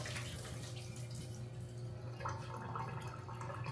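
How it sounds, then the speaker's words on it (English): Water pours and gurgles out of a pot of boiled potatoes into a sink, a steady draining splash with bubbling and dripping, heard alone. "let me drain the water off of those"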